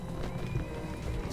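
Hooves clip-clop and a horse whinnies in Mount and Blade Warband, a war horse running amid constant battle noise, short and steady under game action.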